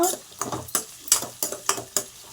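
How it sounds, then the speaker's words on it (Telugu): A spoon stirs a stuffed brinjal, tomato and egg curry with onions in a pan, making a rhythmic series of scraping, clinking strokes about every half second, fairly close and moderately loud over a soft background sizzle. "చూడండి చక్కగా మనం కలిపేసుకుందాం"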